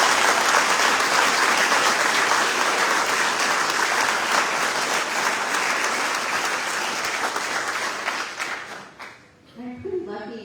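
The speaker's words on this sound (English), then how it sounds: "I would like one more time to give all of our teachers in the room a round of applause for the work that they do" Loud, dense audience applause for teachers at a top teacher awards ceremony fills the room steadily, then thins out and fades near the end as a voice begins.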